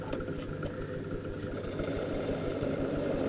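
A turning tool is wedged against a pottery plate on a spinning wheel, making a continuous rough grinding drone at an even, moderate level throughout.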